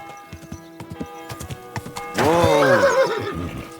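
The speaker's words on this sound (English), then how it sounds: "Easy, good horse." Horse in Kingdom Come: Deliverance 2 clip-clopping along, then letting out a loud, long whinny up close that dominates the rest of the moment.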